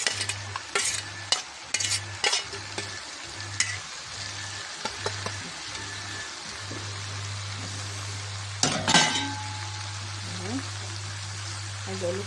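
Onions sizzle steadily in a hot pan while a utensil scrapes and stirs them in a regular rhythm of short strokes, with a low electrical hum underneath and a clatter near the end.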